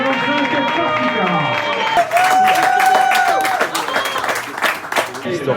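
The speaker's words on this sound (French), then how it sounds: "Applaudissements s'il vous plaît pour Adrien, finisher du 545 Corsica" Crowd applause and cheering for a gravel bike rider finishing the 545 Corsica race, steady clapping, with a loud voice speaking over it and a sustained tone partway through.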